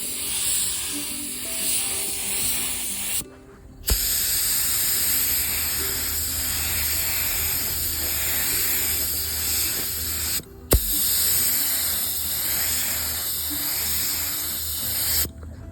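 Spray gun painting a 1958 Plymouth steering wheel, a steady broadband hiss running nearly continuously with two brief pauses between passes, close and loud.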